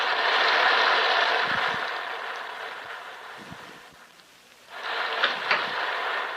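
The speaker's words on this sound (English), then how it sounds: "Look at the rain." Rain used as a sound effect in a 1940s radio drama, a steady hiss of falling rain that fades down, drops out briefly, then returns strongly.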